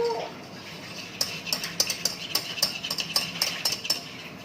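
Custard for an Oreo dessert is stirred in a pot, with a spoon tapping and scraping the metal in an irregular series of light clinks, close but quiet.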